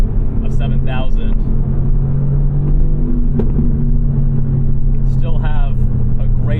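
A 2018 Mercedes AMG GTR engine drones and climbs toward its 7,000 rpm redline from inside the cabin, a steady loud rumble running under a man's speech throughout.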